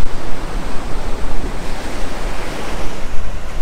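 Ocean waves break on the beach at the Outer Banks, NC, a loud, continuous rushing surf roar mixed with wind buffeting the microphone.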